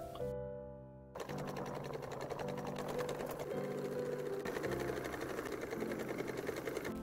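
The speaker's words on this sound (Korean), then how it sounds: "겉감 원단 두 장을 겉길이 맞대어 주시고 입구부터 바닥까지 세 면을 1cm 박음질 해줍니다." A sewing machine stitches a 1 cm seam joining two outer-fabric panels of a tote bag; after a brief pause, a fast, close, continuous mechanical whir and clatter runs steadily to the end.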